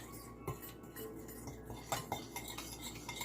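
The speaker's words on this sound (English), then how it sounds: "And just stir that up a little." A spoon stirs a soy sauce mixture for baked turkey wings, giving soft, quiet clinks and scraping against the bowl in a few light strokes, with no talking.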